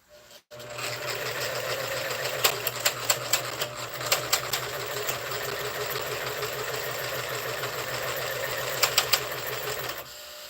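A sewing machine set up for threading runs steadily close by, a continuous mechanical hum with a rapid stitching rhythm and a few sharper clicks and knocks partway through.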